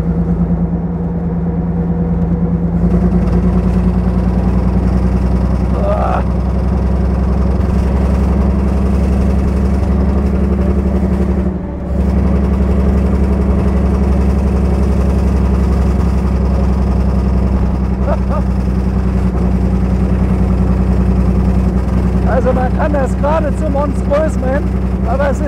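A 1929 Mercedes-Benz SSK with a supercharged 7.1-litre engine runs with a deep, steady low rumble throughout, close and loud, while someone talks over it.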